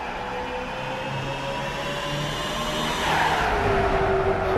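Race cars corner during a race, their engines roaring loud and continuous as they pass close, with the pitch shifting as one car accelerates through the bend.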